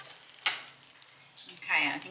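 Sizzling egg wrap frying in a frying pan, a sharp brief crackle followed by a louder hiss as it is flipped, close and alone without talk.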